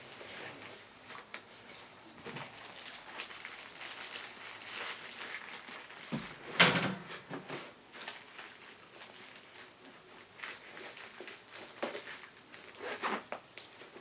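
Rustling and handling noises, then a quick zipper pull opening a pouch, followed by more soft fumbling and clicks.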